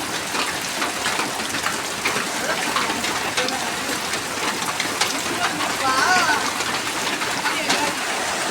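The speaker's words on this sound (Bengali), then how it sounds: "বৃষ্টি শুরু হয়ে গেছে দেখুন" Steady rain falls through the whole stretch as a dense, even hiss with scattered drops, close and fairly loud, during a brief spell of rain between sunny periods while cooking; no talk is clear over it.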